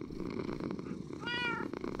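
A cat purrs in the video game Minecraft, a steady low rumble throughout with a brief higher meow-like tone near the middle, close and fairly loud, with no talking.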